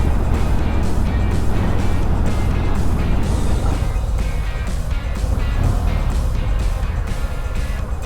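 Harley-Davidson motorcycle cruising on an open road, a steady loud engine drone mixed with heavy wind rush, continuous and close throughout with no pauses.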